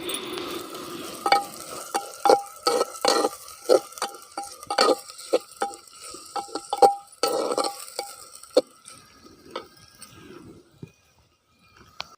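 Chopped onion frying in a pan, with a spatula stirring in repeated sharp scrapes and clinks over a soft sizzle, close and fairly loud, tapering off toward the end.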